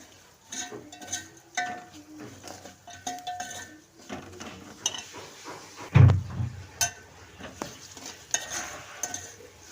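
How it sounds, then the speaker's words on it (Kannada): A spoon stirs chilli powder masala in a hot pan for a tomato sambar, with scraping, clinks against the metal and a soft sizzle, including one loud knock midway. "ಇವಾಗ ಚೆನ್ನಾಗಿ ತಿರುಗಿಸ್ಬಿಡೋಣ"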